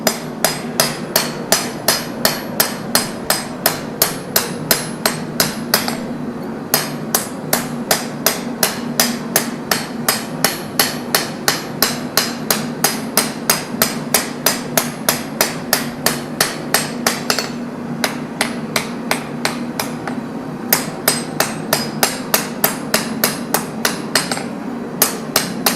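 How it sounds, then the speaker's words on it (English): Steady ringing blows of a ball peen hammer forging hot steel on an anvil, struck in a fast even rhythm for the whole stretch with a couple of short pauses, loud and close with no talking. "I'm using the ball peen. Don't overwork the steel"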